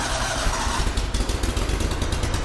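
A Kohler CH25S twin-cylinder engine on a Grasshopper zero-turn mower starts and settles into a loud, steady running rumble, close by and with no talk over it.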